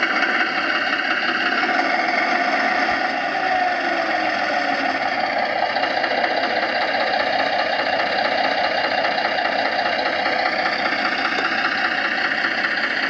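The onboard sound system of a radio-controlled 5-inch gauge Maxitrak Baldwin model locomotive plays a continuous engine drone. The rumble is steady and even, with a faint knocking throb and no voices.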